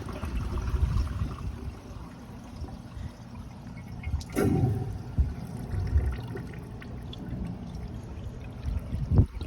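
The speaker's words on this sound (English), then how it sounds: "that's because all the water got out, and it's a weak flush" Weak flush on a commercial flushometer toilet with a partly clogged trapway, water pouring and churning low in the bowl, a brief sharper gush midway, then draining and trickling to a gurgle near the end.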